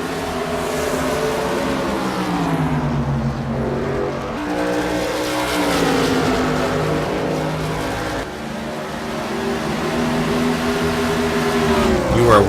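Race cars in a CMC Sportsman Series simulated race roar past continuously, engines revving up and down with rising and falling pitch as they battle closely, loud and sustained with a commentator speaking over them.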